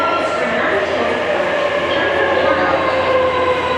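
A train bound for Narita Airport in Japan runs steadily with a continuous rumble and rolling noise, loud and close, with no clear pauses.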